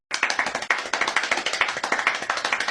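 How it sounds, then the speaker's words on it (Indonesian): An audience claps hands at an informal campus talk session, a brisk, even run of close claps starting abruptly and continuing steadily without any talk over it. "mungkin boleh kasih tepuk tangan dulu kali"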